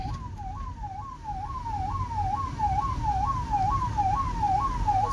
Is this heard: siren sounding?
yes